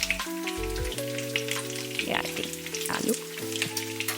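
Oil sizzling in a hot pan while cooking tomato roti pachadi, a hissing crackle under music with steady tones, briefly swelling twice; a voice speaks one short word.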